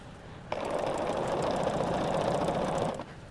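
Sewing machine stitching binding onto a quilt, starting abruptly and running at a steady, fast mechanical rattle for a few seconds before stopping, close and alone.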